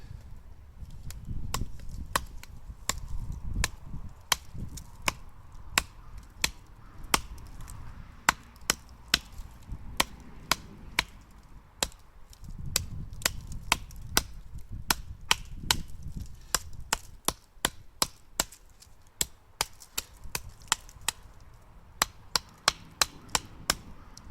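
A PKS Phantom II knife bites into a log outdoors in a long series of sharp, woody chops, some rapid and some spaced apart. The strikes sound close and crisp over low rumbling background noise, and no one talks.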